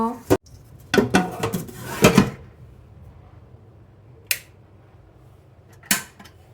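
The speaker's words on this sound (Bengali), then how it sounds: "ঢাকনাটা দিয়ে দিই" A rice cooker's lid clatters into place, with a burst of handling clinks at first and then a few isolated sharp taps against quiet room tone, near and moderately loud.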